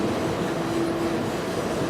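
The Coast Starlight passenger train climbs the Cuesta grade, a steady loud rumble of wheels on rail heard from aboard, with a faint squeal of wheels running through it.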